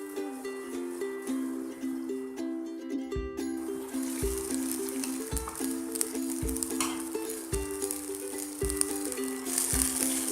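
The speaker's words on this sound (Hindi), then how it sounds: "टमाटर को हम सॉफ्ट करने के लिए 2 मिनट तक ढककर पकाएंगे।" Tomatoes softening in a covered pan for restaurant-style matar paneer, a steady, moderate sizzle and faint bubbling throughout, with background music playing over it and no talk.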